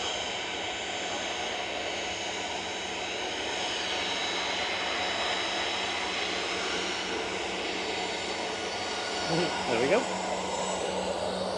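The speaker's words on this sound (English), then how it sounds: "Sun Express to Dalaman in front of us now, just lining up with flight 505." A Sun Express jet bound for Dalaman powers up for takeoff at Manchester Airport, a steady, moderately distant engine roar with a whining tone, and a brief spoken remark near the end.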